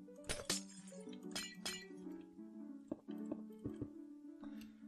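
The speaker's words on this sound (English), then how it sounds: "The glass has all been broken." Glass blocks shattering in the video game Minecraft: a quick series of bright clinks and crashes, several breaks clustered near the start and more scattered later, close and fairly clear with no talk over them.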